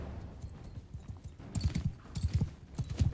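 Horses galloping in the Bannerlord video game, a quick rhythmic clatter of hooves that swells louder midway as riders close in, with no talk over it.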